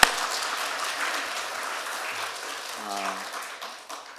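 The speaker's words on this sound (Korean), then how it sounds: "우리 다시 한번 목사님께 감사의 박수 우리 올려드리겠습니다" A church congregation applauds its pastor after a Sunday service prayer, a steady wash of clapping across the room with a few voices and a brief tone rising over it near the end.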